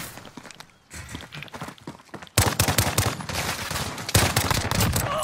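AUG burst rifle firing in Warzone, rapid clustered gunshots cracking in short bursts amid footsteps and game noise, louder and denser after a brief quieter stretch.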